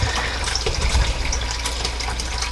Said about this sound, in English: Be sure to let the water run on both hot and cold, because there's those separate pipelines.